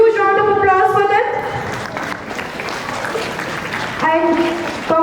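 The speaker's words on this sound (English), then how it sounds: "A huge round of applause for them." Audience applause at a school Republic Day celebration for student performers, steady clapping from a crowd heard under and between announcements with tonal music or voices at start and end.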